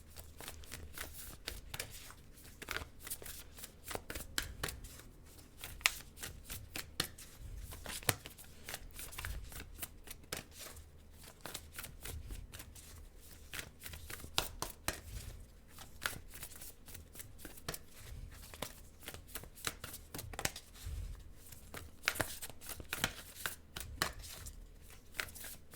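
Tarot cards are shuffled continuously by hand, a quiet, close riffle and slide of the deck that keeps up a brisk, uneven patter throughout, with no talk.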